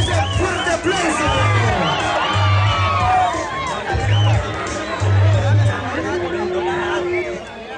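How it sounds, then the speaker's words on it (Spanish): A crowd at a lucha libre wrestling event in Apaseo el Grande, Guanajuato, cheers and whoops as a wrestler is introduced, with loud overlapping shouts, whistles and children's voices in a busy, continuous hubbub. "Y que se escuche ese fuerte aplauso."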